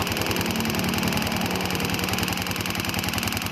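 A motor's engine idles steadily after a loose electrical connection was fixed, giving a close, even, rapid mechanical chug with no pauses.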